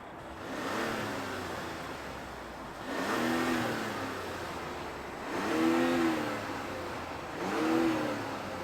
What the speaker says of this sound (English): let's fire it up and see this Mazda move.